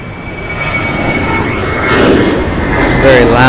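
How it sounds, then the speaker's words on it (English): A seven-year-old American Airlines Airbus A321 departs LAX for Dallas with a very loud, close jet roar that builds in waves, while a voice is briefly heard beneath it. "Very loud departure by this American Airlines, flight 1994, going to Dallas. It's an Airbus A321, 7 years old."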